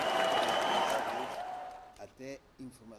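Studio audience applause on a television talk show, dense clapping that fades out over a couple of seconds before people begin speaking.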